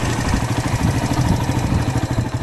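A motorcycle engine idles close by with a steady, throbbing mid-pitched rumble and slight uneven pulsing, no talking over it.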